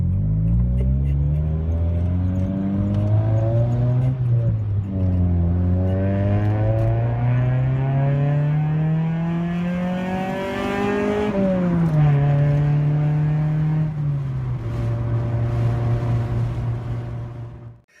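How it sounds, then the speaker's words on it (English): A 2000 Acura Integra engine revs up and down repeatedly through a loud, raspy aftermarket exhaust with DC Sports headers and a MagnaFlow muffler, pitch climbing and falling in long sweeps, close and continuous with no talking. "So my exhaust setup is DC sport headers, and it runs all the way back to a MagnaFlow muffler."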